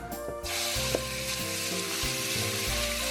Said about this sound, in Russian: обжариваем куриное филе не до готовности, а запечатываем полностью куриное мясо, чтобы не выходил сок